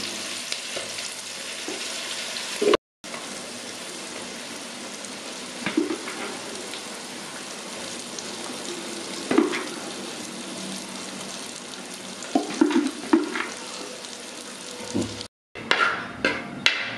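Turmeric and spices for a Kerala-style fish curry frying over a low flame in a pan, a continuous close sizzle with occasional scrapes and knocks of a stirring spoon, broken by two short silent gaps.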